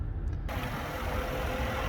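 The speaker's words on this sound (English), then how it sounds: "the Supercharged V8 is idling very happily" A supercharged V8 engine in a 2014 Range Rover idling with a steady low rumble and deep throb, loud and close, beginning abruptly after a brief moment.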